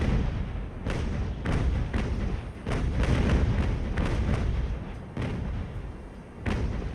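Ship cannons firing in Ultimate Admiral: Age of Sail, a steady series of heavy booming shots that land roughly every half second to a second, loud and close over a continuous low rumble.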